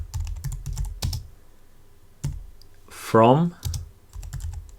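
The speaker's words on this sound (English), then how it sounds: "inside here, we're gonna type connect" Short bursts of computer keyboard typing while entering code, soft key clicks in clusters separated by pauses, with a brief spoken word in the middle.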